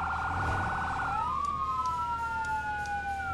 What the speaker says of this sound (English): of course it's loud. It's a fire truck siren.